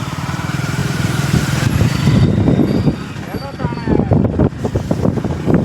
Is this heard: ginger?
no